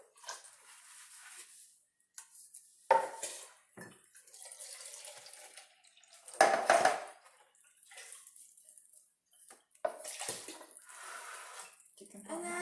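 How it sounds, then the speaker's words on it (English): Chicken broth and water pour into a pot for pho, a steady liquid gush in several bursts with brief pauses, heard close and fairly loud. "Now for the chicken broth in."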